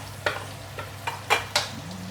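Rice noodles with a little cabbage being stir-fried in a hot pan, a steady sizzle broken by five or six sharp scraping stirs of the spatula at uneven intervals.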